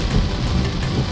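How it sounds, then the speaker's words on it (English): A heavy rainstorm in Monrovia, Liberia, heard from inside a moving car, gives a dense, steady roar of rain pounding the vehicle at close range, with a low rumble underneath and no voices. "I am driving in my first rain since I've been in Liberia"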